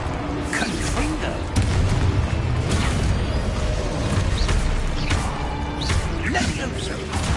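Confringo fire spell explosions in the video game Hogwarts Legacy, a run of dense booming blasts and crashing impacts with whooshes, loud and continuous over a rumbling game soundtrack.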